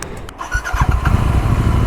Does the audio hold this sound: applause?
no